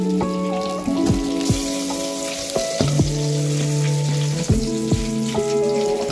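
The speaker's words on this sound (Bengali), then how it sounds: "এদিকে সরষের তেল গরম করতে দিয়েছি, এবার মাছগুলো একা একা ছেড়ে দিচ্ছি।" Fish frying in hot mustard oil, a loud continuous close-up sizzle with crackling spatter and sharp clinks and taps of a utensil against the pan.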